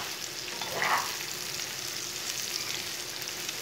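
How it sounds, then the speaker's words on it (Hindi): Ridge gourd and browned onions fry in a pan, giving a soft, even sizzle that holds steady throughout at low volume, with a faint brief scrape near the start and no voices. "अब तोरी को 5 मिनट तक भून लेंगे।"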